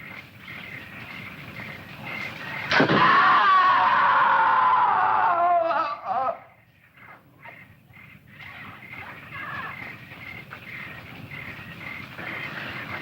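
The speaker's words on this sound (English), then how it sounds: "I'm sure I heard a scream." A loud, drawn-out high cry bursts out suddenly and holds for a few seconds, then breaks off, leaving quieter background rustle.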